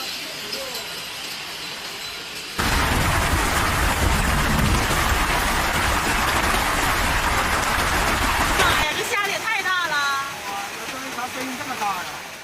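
Giant egg-sized hail pounds down in a dense, loud, continuous clatter during a severe storm in Beijing and Inner Mongolia. The hail starts abruptly and lasts several seconds before fading under a voice near the end.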